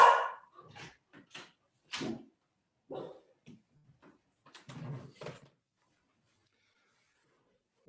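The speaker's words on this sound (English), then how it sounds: "You'll excuse my dog who wants to be part of the presentation here." A pet dog at home gives a scattered run of short barks and whimpers, fairly close in an otherwise quiet room, with pauses of silence between them.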